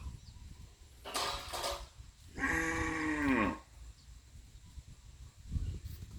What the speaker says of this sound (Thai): วัวมันร้องครับผม